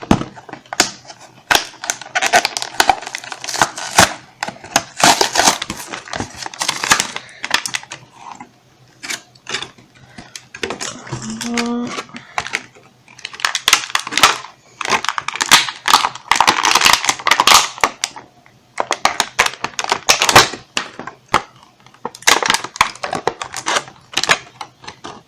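A themed monthly subscription box is opened by hand: bursts of clicking, crinkling and tearing packaging, close and fairly loud, broken by short pauses.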